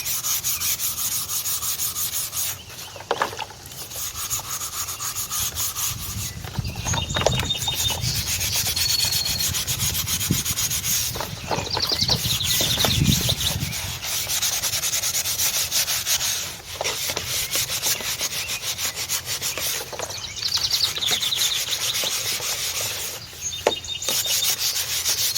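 Dirt is scrubbed off a gourd by hand, making a continuous rough rubbing and scraping with uneven strokes and short pauses, close and alone.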